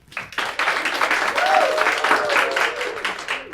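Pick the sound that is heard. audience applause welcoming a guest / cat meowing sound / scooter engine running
audience applause welcoming a guest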